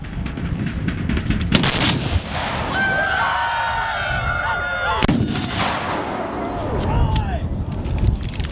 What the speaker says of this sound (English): A jolly good volley there